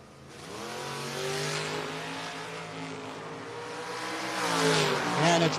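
A drag-racing Chevelle and an S10 pickup launch down the strip, loud engines revving with rising, sweeping harmonic tones and building roar, no talking over them.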